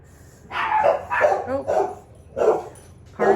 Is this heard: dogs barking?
yes